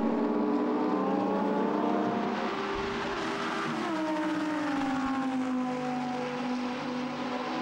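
Lamborghini Super Trofeo race cars at the Nürburgring roar through at full throttle, engine notes sweeping and shifting as the pack passes, loud and continuous throughout.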